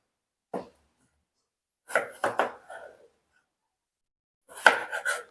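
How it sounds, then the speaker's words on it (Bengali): A kitchen knife dicing potatoes into small cubes on a cutting board, heard as a single tap followed by two short clusters of quick, close chopping knocks separated by silence. "এরকম একটু ডুমো ডুমো করে কেটে নিলাম"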